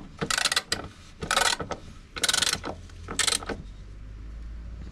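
A wrench tightening a rear suspension adjustment bolt on a car, four quick bursts of close ratcheting clicks separated by short pauses.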